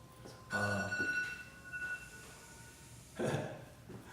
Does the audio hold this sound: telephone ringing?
yes